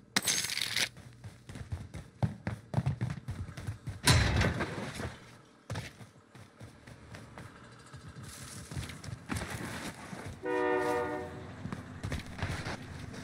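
Train sounds in a video game, with rumbling rail noise, a horn-like tonal blast and busy mechanical clatter, loud and dense throughout alongside game effects.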